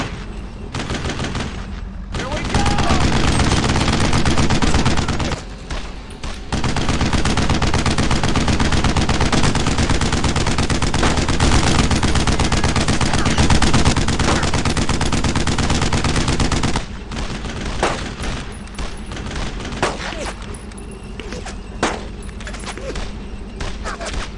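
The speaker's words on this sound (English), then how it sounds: "I need suppress! Give me a base of fire on that position!" Sustained bursts of rifle and machine-gun fire pour suppressing fire on an enemy position in the World War II shooter Brothers in Arms: Road to Hill 30, loud and near with brief lulls between volleys.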